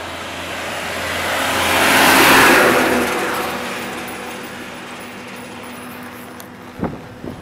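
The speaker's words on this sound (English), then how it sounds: "Here come two cotton loaf trucks." Two loaded cotton trucks drive past on a rural road in Tunica, Mississippi, their engines swelling to a loud close pass around the middle, then fading into the distance, with a brief sharp knock near the end.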